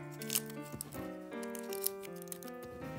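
Scissors cut out paper shapes for a children's paper bear craft, making close, repeated snipping and squeaking sounds.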